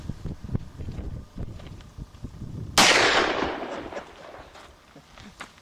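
A single gunshot rings out outdoors on a windy Kansas range, a sharp loud crack with a long fading tail, amid wind noise and low handling rumble.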